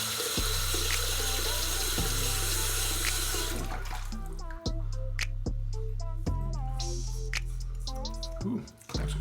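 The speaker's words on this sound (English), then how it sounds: "I'm just gonna fill up the bowl so as not to use too much water" Tap water runs steadily into a shaving bowl, a full close rush that eases partway through, with faint ticking and small clinks mixed in beneath the flow.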